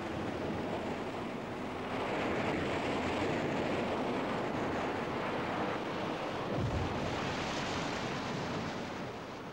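Violent ocean waves pound a shore amid gusting wind where penguins return from the sea, a continuous heavy roar of surf with rumbling wind buffeting, loud and unbroken.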